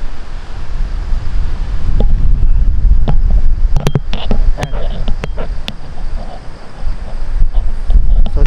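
Strong wind buffets the microphone at a Pacific Ocean viewpoint deck, a constant loud low rumble with gusts running through the whole stretch and no voices.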